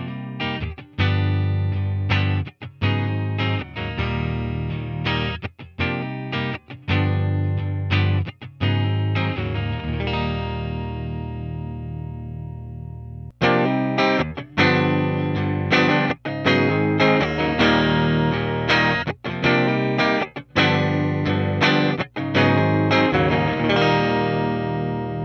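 Electric guitar played through a Fender Princeton amp model on a Line 6 Helix, with crisp chord stabs and muted strums in rhythmic bursts, a sustained chord ringing out midway, then more choppy strumming, loud and alone.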